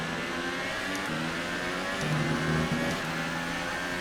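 Formula 1 race car engines in the F1 2018 racing game, a continuous high-pitched droning whine with layered harmonics, held loud and steady throughout.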